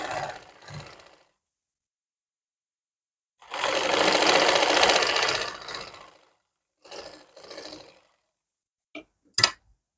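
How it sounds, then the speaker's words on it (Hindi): A sewing machine stitches the second seam on palazzo pants in a couple of short bursts, with one longer run and a few brief ones, separated by quiet pauses and small clicks. "दूसरी सिलाई लगा रहे हैं।"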